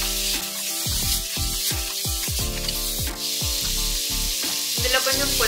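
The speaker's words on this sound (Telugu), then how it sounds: "ఇప్పుడు ఫ్లేమ్ కొంచెం తగ్గించి మీడియం ఫ్లేమ్ మీద ఒక 5 నిమిషాల పాటు కలుపుతూ" Chicken seasoned with salt and turmeric sizzles on a medium flame, a constant hiss overlaid with repeated squeaky scrapes from stirring, close and fairly loud, with nobody talking.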